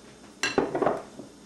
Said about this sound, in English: Wipe the sides of the bowl.